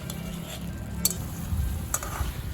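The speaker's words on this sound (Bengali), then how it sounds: "ভালো করে নেড়ে চেড়ে বাটা মশলাটা আমি সুন্দরভাবে মিশিয়ে দিচ্ছি" A spatula stirs ground mustard-poppy paste into a drumstick and potato curry with no liquid left, giving soft scraping and a couple of sharp metallic clinks against the pan amid faint sizzling, close up.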